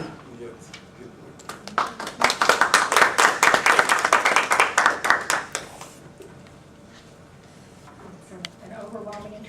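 Audience members at a brown bag talk applaud to welcome a professor to the podium: distinct, rhythmic claps from a modest group that swell, hold for a few seconds, then fade, leaving a quiet room with faint talk afterward.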